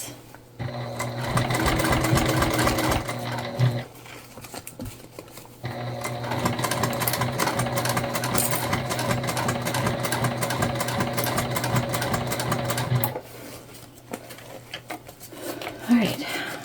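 A sewing machine runs steadily, stitching a Winona crossbody bag along its piping with relief slits in the fabric. There are two bursts, a short one and then a longer continuous run, with pauses and faint handling noise between them.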